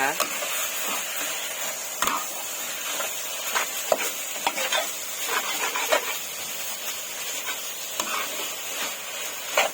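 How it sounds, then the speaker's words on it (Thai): Pork stir-frying in a wok gives a steady hiss of sizzling with repeated spatula scrapes and clanks against the metal, and a voice speaks faintly over the cooking. "ผัดจนหมูสุกนะคะ"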